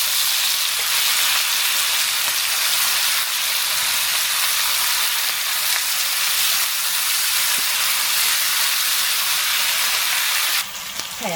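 Kimchi stir-frying in rendered pork belly fat in a pan, making a loud, constant close sizzle and hiss that runs unbroken and then dips slightly near the end.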